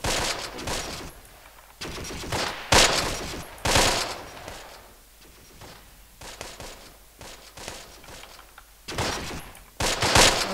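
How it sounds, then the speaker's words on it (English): Mortar rounds land in the World War II strategy game Close Combat: a string of sharp, crackling explosions arrives in irregular bursts, with quieter gaps between the salvos. "Throw some nice mortar shots in there."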